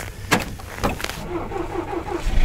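A car engine being started in freezing winter cold: several sharp cranking bursts early on, then a low rough idle settling in, close and moderately loud, with no talking.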